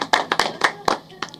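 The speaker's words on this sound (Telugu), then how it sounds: "ఒకసారి గట్టిగా చప్పట్లు ప్రతూష గారికి." A small audience clapping for Pratyusha at a fashion collection event, a handful of close, sharp hand claps in an uneven rhythm, loud and separate, fading out after about a second and a half.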